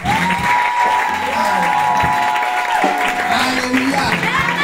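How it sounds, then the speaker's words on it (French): An audience at a church anniversary celebration bursts into loud, sustained applause that runs the whole time, with a voice singing or calling out over the clapping. "Acclamez d'abord."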